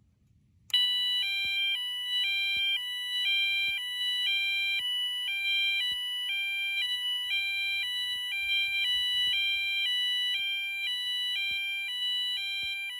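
An electronic two-tone siren from a Wheelock MT 24-LSM horn-strobe alternates steadily between a high and a low pitch, loud and continuous, starting abruptly after a brief quiet moment.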